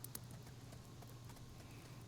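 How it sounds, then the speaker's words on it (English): Horse hooves clip-clop at a steady walking pace in the online game Legends of Aria, faint and even, over a low constant background hum. "we're not going to need the horse out here"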